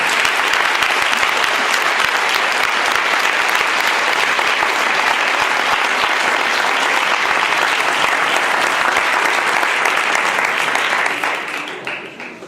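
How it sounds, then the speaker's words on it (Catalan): Loud, sustained audience applause from a crowd at an inaugural ceremony for the 75th anniversary of the Aplec de la Rosa, steady clapping throughout that fades out at the end. "un fort aplaudiment a tots aquests companys"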